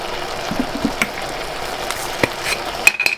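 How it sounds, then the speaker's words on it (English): Meat for a Persian ghormeh sabzi stew browning in a hot pan, giving a steady moderate sizzle with occasional soft scrapes and taps of a utensil, ending in a brief clatter. "now we can go in with our meat, and we just want to get that brown on all sides"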